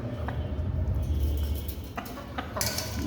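Native chickens cluck softly nearby while eating, over a low rumbling background, with a few sharp pecking taps and short calls.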